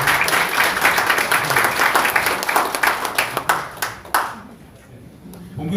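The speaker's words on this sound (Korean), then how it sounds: "큰 박수 부탁드립니다" An indoor crowd at a public hearing on a Gwangju special law gives sustained applause, dense and steady before tapering off into quiet.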